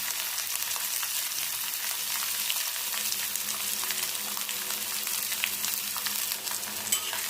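Dried red chilies and onion fry steadily in a pan, a dense continuous sizzle with faint crackles and occasional stirring scrapes, close and even throughout.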